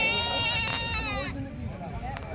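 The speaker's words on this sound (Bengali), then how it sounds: "সেই ছাগল রয়েছে এই উখড়া হাটের মধ্যে" A goat gives a clear, nasal bleat up close at the Ukhra goat market, one wavering call lasting about a second, followed by fainter background market noise and a brief knock.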